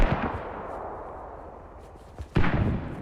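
Mortar shells landing on a forward base in a multiplayer video game match: a heavy boom fades into a rumbling tail, then a second loud impact hits near the end.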